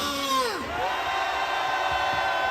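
At an outdoor rally against a presidential impeachment outside a government investigation office, a crowd raises a loud, sustained roar of shouts and cheers, with voices rising and falling together.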